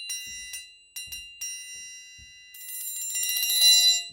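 A triangle sounds a few separate ringing strikes, then a slightly muted roll begins and swells steadily from soft to loud, bright and shimmering, heard alone.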